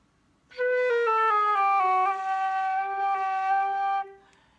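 A flute with leaky keys plays a short descending run of sustained notes, the tone slightly airy and unstable, ending abruptly.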